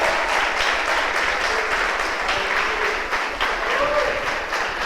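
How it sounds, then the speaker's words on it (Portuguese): Church congregation clapping in praise at a worship service, steady dense applause filling the space, with faint voices and a thin sung or spoken tone threading through near the end. "Glorifique com suas palmas ao Senhor."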